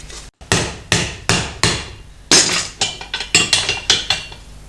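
A dozen sharp metallic hammer blows on a motorcycle fender's sheet metal ring out close by, struck in an uneven rhythm with short pauses between clusters.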